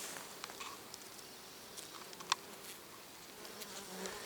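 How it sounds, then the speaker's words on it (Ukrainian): A bee buzzes faintly in the open air on a mulberry tree, with light rustles and a few soft ticks around it. "Шовковиця, а по шовковиці працює бджола."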